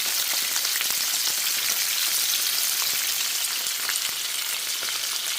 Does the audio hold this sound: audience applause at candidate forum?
no